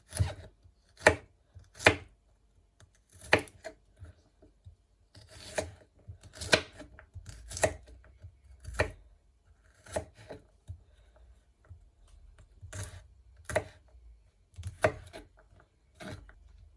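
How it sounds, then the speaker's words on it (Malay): Knife chopping chilies and shallots for nasi goreng kampung, irregular sharp taps on a board spaced through quiet gaps, close and fairly soft. "Saya terpaksa potong cili dan bawang ini kerana saya punya lesung batu agak kecil."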